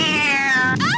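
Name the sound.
cat jump scare in a movie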